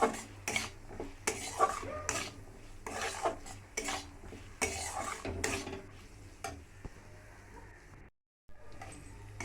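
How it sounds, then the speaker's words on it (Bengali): Egg chowmein is stirred in a pan as Maggi masala is mixed in, with a run of scraping, clinking utensil strokes against metal over a light sizzle, close by and fairly quiet, with one short drop to silence near the end. "ভালো করে নাড়িয়ে চাড়িয়ে মশলাগুলো মিক্সড করে দিলাম।"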